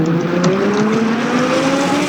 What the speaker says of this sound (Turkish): Arkadaşlar bu araba efsane. Bakın nasıl hızlanıyor.